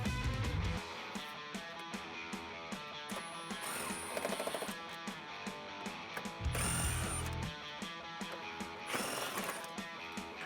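Ratchet wrench with a 5.5mm socket backing out screws while fitting a 2015-2017 Roush fender flare, with steady clicking pawl ticks running through the clip alongside metallic tool noise, fairly close and without talk.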